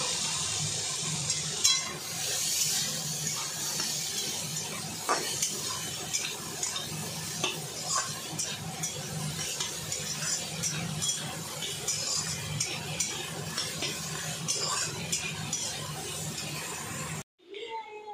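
Onions and chickpeas sizzling steadily in a pan while a utensil stirs and scrapes against the metal with frequent clinks, close and continuous for most of the stretch before cutting off abruptly.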